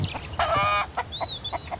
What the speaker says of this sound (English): The chicken just scared me.